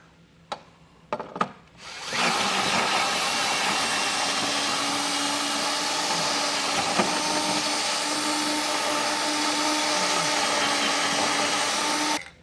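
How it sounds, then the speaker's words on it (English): A step bit enlarges a drilled hole for a carriage bolt while a Curt trailer hitch receiver is installed on a 2018 Genesis G80. A few light knocks come first, then a loud, steady, close drilling whine holds for about ten seconds. "just use a step bit to enlarge the entire diameter"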